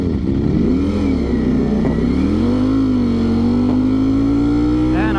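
A Ducati Streetfighter V4S motorcycle engine revs loud and close, a steady droning roar with rising and falling pitch that sounds somewhat flat and detuned, continuous throughout with no talking.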